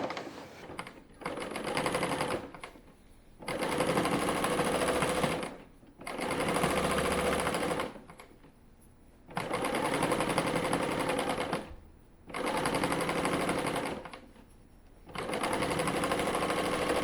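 A three-thread serger overlocks the outer edge of fabric in about six loud, steady bursts of rapid stitching, separated by short pauses, with no talking.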